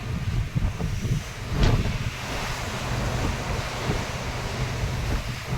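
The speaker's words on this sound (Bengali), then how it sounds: "ঢেউ প্রচুর হচ্ছে যেহেতু সমুদ্র আছে না" Ocean waves and wind surround a cruise ship at sea off northern Norway near Honningsvåg. A steady rushing wash with gusty wind noise runs throughout, with a brief louder surge near the start and no voices.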